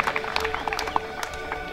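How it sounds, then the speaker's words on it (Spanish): A brief burst of applause and crowd noise rises for the local Club Deportivo Unión Salud Insular de Achao at a sports event opening, with scattered claps and cheers in a reverberant space. "Un fuerte aplauso entonces al representativo local, al Club Deportivo Unión Salud Insular de Achao."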